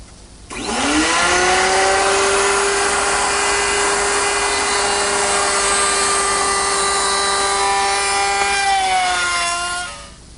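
A router spins up to a loud, steady, high-pitched whine, runs continuously for about ten seconds while cutting grooves in wood, then winds down.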